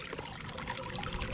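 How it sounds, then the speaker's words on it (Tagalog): Water being poured out of a boat, likely during oyster gathering, making a steady, close splashing pour that runs continuously and fairly quietly with no talk over it. "Tapon natin yung tubig."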